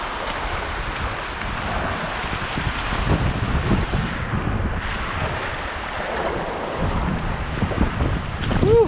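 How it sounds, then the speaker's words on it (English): Fast-flowing creek water rushes steadily along a hiking trail, a broad continuous wash mixed with wind buffeting the microphone, fairly loud and close throughout with no talking. "It's a quick moving creek."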